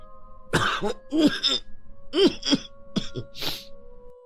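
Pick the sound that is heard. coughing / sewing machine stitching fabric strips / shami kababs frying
coughing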